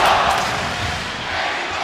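A boxing arena crowd chants "Mexico" for Marquez, a loud, dense roar of many voices that holds steady throughout.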